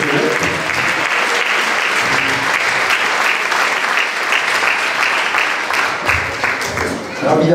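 Sustained audience applause at a live concert, loud and dense throughout with many hands clapping close together, easing slightly near the end.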